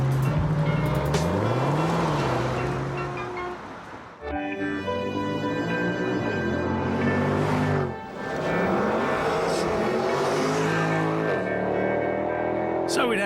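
A car costing around 400 grand with a seven-speed gearbox revs loudly and close. The engine pitch sweeps up and down through several gear changes, with brief dips between pulls.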